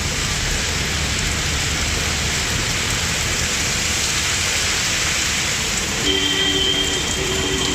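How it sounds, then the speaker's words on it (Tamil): Steady, dense rain pours down evenly and alone in the evening around Tiruvallur, Tamil Nadu, a constant broadband hiss throughout with a faint tonal hum near the end. "திருவள்ளூர் மற்றும் சுற்றுவட்டார பகுதிகளில் மாலையில் பரவலாக மிதமான மழை பெய்தது"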